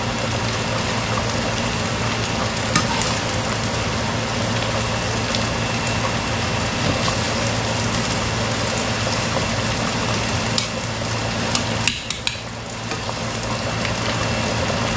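Potatoes finishing in a pot of butter for an old-fashioned catfish stew give a steady, even sizzle and bubbling hiss throughout, close and unbroken, with no talking.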